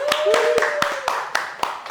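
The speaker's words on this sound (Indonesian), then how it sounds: "Tepuk tangan dong" A handful of people clap at the close of a studio talk-show episode, about seven sharp, separate claps spaced across two seconds, with a voice and a sustained tone running beneath them.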